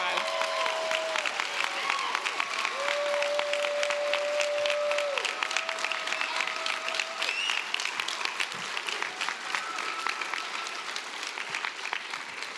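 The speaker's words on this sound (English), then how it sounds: "one more round of applause for" Sustained applause from a crowd at a physician assistant program's white coat ceremony fills the clip, with whoops and a voice calling out over the clapping.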